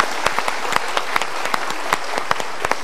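An audience gives a short burst of applause, a few distinct claps standing out over a dense ripple of hand-clapping, with no talk.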